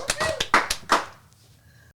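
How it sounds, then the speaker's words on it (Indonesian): A few people clap briefly for Zalnando in a small studio setting, a handful of sharp, close claps fading out within about a second, then near silence. "Berikan tepuk tangan sekali lagi untuk Zalnando."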